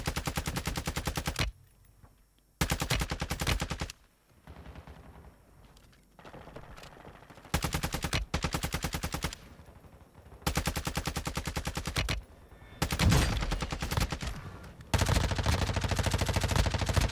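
Gunfire in Warzone, with several long bursts of rapid automatic fire, loud and close, separated by quieter gaps of fainter shots and ambience.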